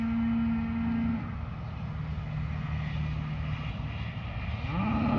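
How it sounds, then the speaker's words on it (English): A gentle set of cows moo in low drawn-out calls near the start and end, over a steady rumbling background drone. "This is a gentle set of cows right here."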